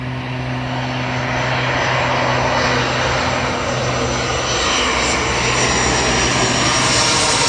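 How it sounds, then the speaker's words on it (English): A Qantas airliner on approach to Gold Coast Airport, its engines roaring as a steady, loud drone with a low hum, filling the whole stretch with no talk. "Qantas just about to arrive here into the Gold Coast."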